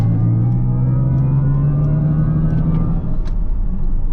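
A 761-hp Mercedes EQS AMG electric car cruising on the Autobahn, with a loud, steady interior drone and synthetic engine-like hum slowly rising in pitch over continuous road rumble.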